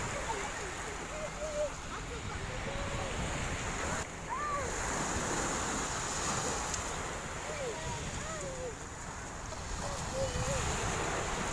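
Sea waves wash steadily onto the beach at M'diq on Morocco's northern coast, a continuous broad surf roar with wind buffeting the microphone and faint distant voices mixed in.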